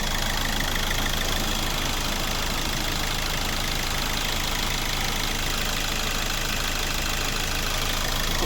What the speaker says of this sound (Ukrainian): Добре працює двигун.